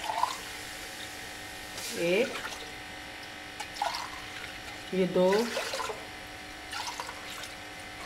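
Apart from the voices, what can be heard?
pouring cups of water into pot for khichdi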